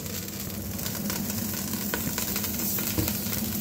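Onion frying in a pan for a braised lamb shank, a steady close sizzle with dense crackling spatter and occasional louder pops, no voices.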